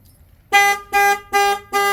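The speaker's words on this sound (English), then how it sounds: "Apparently it's got an alarm system." A used car's alarm system sounds four loud, evenly spaced horn toots in quick succession after a quiet moment, close and sharp.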